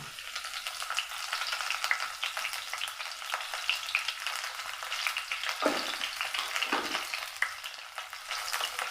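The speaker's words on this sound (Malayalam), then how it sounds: "എണ്ണ നല്ല ചൂടായി വന്നിട്ടുണ്ട് ഇതിലേക്ക് നമുക്ക് ചതുക്കിയെടുത്ത വെളുത്തുള്ളി ഇഞ്ചി കറിവേപ്പില" Crushed garlic, ginger and curry leaves fry in hot oil, a bright continuous crackle and hiss up close, with a couple of brief stirring scrapes.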